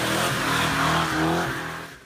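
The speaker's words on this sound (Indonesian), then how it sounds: "ditenagai mesin V8 yang bertenaga, dan memiliki suara knalpot yang menggelegar" A 1969 Dodge Charger V8 roars loudly and steadily through its exhaust, with a deep, sustained engine note that rises and falls slightly across the short burst, alone with no voices.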